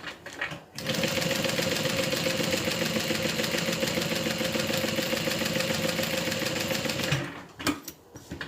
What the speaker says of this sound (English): let's sew this down